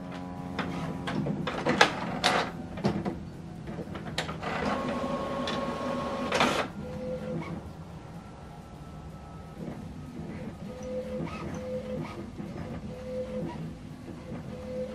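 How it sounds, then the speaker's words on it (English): An HP Envy Inspire 7220e inkjet printer prints an alignment page: loud mechanical clicks and clacks, paper feed rattles and a whirring motor burst, followed by steady rhythmic print-head passes with regular whirs. "So now it's printing the alignment."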